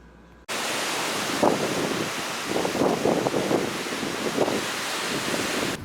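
Strong wind buffeting the microphone on a beach at sunset in Oahu, a loud steady rush with gusty surges and possible surf underneath, starting suddenly after a quiet moment.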